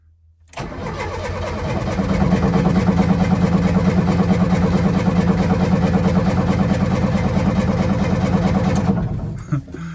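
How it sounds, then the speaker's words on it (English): A Lada's engine cranks and catches, then runs at a rough, loud idle for several seconds before cutting out abruptly; the sustained rumble drowns out any distinct clunk from the back end. "Quite the clunk coming from the back end."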